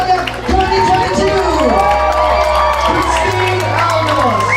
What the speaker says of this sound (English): let's give a round of applause for your Miss Glamour Look Australia 2022